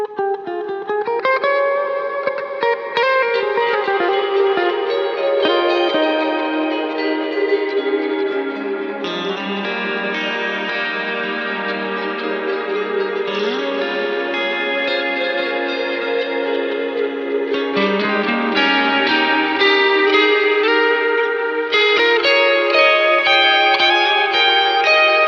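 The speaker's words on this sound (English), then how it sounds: "I'll just turn the guitar solo on, or solo the guitar parts." Soloed electric guitar parts played through effects, layered sustained chords and notes washed in echo, chorus and reverb with light distortion, continuous and lush for the full stretch, no talk.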